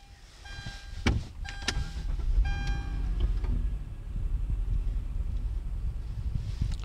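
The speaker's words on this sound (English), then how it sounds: "So my car just started." A car with a keyless start/stop button fires up: a couple of sharp clicks and electronic chimes, then the engine catches and settles into a steady idle hum that runs to the end.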